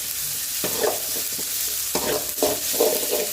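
Pulicha keerai (gongura) leaves sauté in a pan, a steady sizzle broken by several scraping stir strokes, close and without talk.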